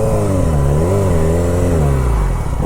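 A motorbike engine that seems to be running rough revs loudly and close by, its pitch rising and falling in wavering sweeps before easing off.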